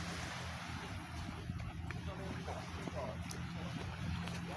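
Wind blowing outdoors beside a lake, a continuous broadband rush with low buffeting against the microphone, steady and fairly close throughout.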